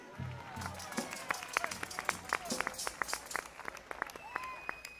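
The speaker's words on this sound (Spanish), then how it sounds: "Por Dios bendito, comisión de festas, por organización de festas. ¡Aplauso grande aí!" A festival crowd at an Albariño wine fiesta in Cambados claps for the organizing committee, with scattered, uneven hand claps rising and falling softly under chatter and a voice at an outdoor orchestra show.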